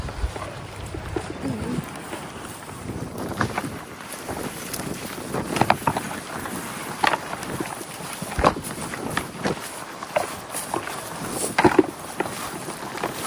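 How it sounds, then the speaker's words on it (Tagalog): Wind buffets the microphone on an open UK beach, a steady broadband rush with gusty bursts and sharp crackles, loud and close, with faint voices now and then underneath. "See, it's windy."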